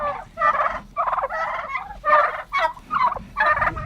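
A flock of domestic turkeys on a farm gobbles close by in repeated rapid bursts, overlapping warbling calls rising and falling one after another.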